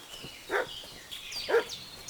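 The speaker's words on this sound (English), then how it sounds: "What's that dog making such a fuss about?" A dog in the medieval video game Kingdom Come: Deliverance 2 gives two short, moderately distant barks about a second apart over a faint ambient background.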